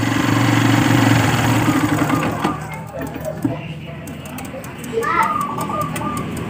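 A Yamaha Byson motorcycle engine idles steadily nearby, then is switched off about two seconds in and falls silent, leaving voices and children's chatter in the background.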